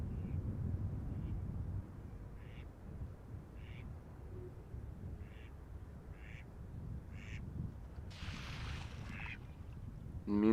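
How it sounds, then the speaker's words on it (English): A male duck quacks in short, faint repeated calls and then splashes down onto water, all over a steady low rumble of background noise near Amsterdam Schiphol Airport. "a gentleman duck just landed over here in the water"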